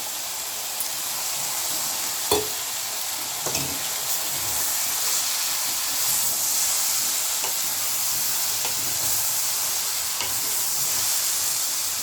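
Fried fish added to softened vegetables in oil and stirred, a loud steady sizzle with a few distinct scrapes and knocks of the spoon against the pan; no voices.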